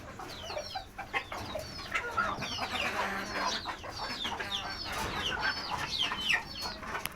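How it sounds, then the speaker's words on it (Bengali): Native chickens on a home balcony cluck and chirp steadily throughout, several birds calling close by in overlapping, busy bursts with a faint farmyard crow-like note now and then. "এই যে মুরগিগুলা"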